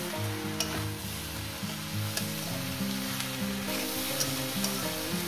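Vegetable chorchori of khesari greens, potato, brinjal and lentil bori cooking in a pan on a low gas flame, giving a steady soft sizzle with stirring scrapes, under continuous background music.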